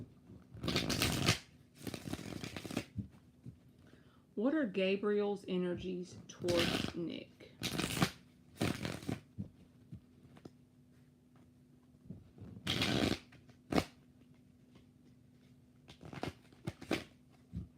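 Repeated bursts of tarot cards being shuffled, crisp riffles separated by short pauses, with a person speaking briefly in the middle.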